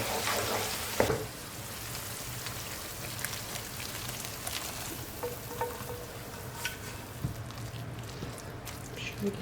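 Red pepper, chili flakes and mint roast in a pan with a faint, continuous crackle and sizzle, broken by small pops and stirring clicks. A voice speaks softly underneath.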